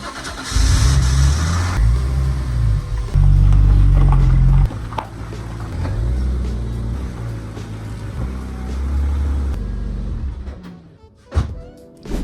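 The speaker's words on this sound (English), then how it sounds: "we need to get my dad's race car out of the garage" A race car's engine runs loudly as it is driven out of a garage, a strong low mechanical rumble with revs rising and falling, then fading toward the end with a thunk.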